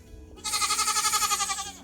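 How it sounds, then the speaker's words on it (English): A young Nigerian dwarf goat in a goat shed lets out one sustained, wavering bleat lasting over a second, close and fairly loud after a brief quiet start. "Sophie is my youngest Nigerian dwarf goat"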